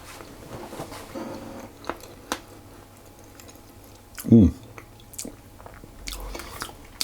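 Someone bites into buttery Tosset cakes with caraway seeds and chews, with one short, close, crunchy bite in the middle and soft mouth sounds around it.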